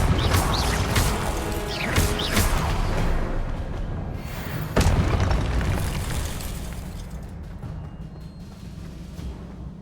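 Expelliarmus spell cast in Hogwarts Legacy, booming magical blasts and crashing impacts, with a cluster of hits early on and a sharp loud burst midway, fading into a rumbling tail.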